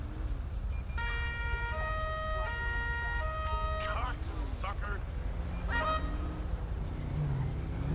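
An ambulance siren wails in the GTA LSPDFR police game, its rising and falling tones sounding over steady traffic and engine noise while someone talks.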